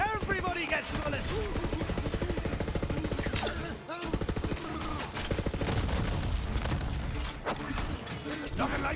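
Dense, rapid gunfire in the video game Borderlands 3, bursts of shots and impacts loud and nearly continuous with game voices mixed in.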